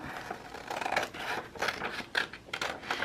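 Scissors trim around a cutout of paper for a Disney-themed junk journal, giving a close run of crisp snipping and rasping cuts in irregular bursts with no talking.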